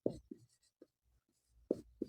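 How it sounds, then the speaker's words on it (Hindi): Pen strokes scratch across paper during a class 10 maths lesson, in several short, close bursts separated by brief pauses, with no talking. "तो लिखेंगे"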